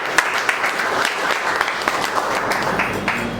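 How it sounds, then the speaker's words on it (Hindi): Loud, close applause from the crowd at a company leaders' meeting as an associate is called to the stage, rapid dense clapping with sharp individual claps standing out, sustained throughout. "आपकी जबरदस्त तालियों का बीच मिस्टर सुनील"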